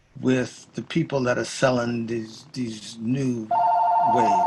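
A telephone rings during a Zoom call, a steady electronic tone starting partway through and continuing under a voice.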